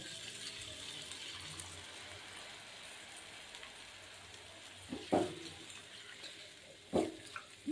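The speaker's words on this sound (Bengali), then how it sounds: "এখন আমি জল দিয়ে দিচ্ছি।" Water poured into a pan of potatoes sautéing with ginger and green chilli for a potato curry, a soft steady wash with two brief louder splashes near the end.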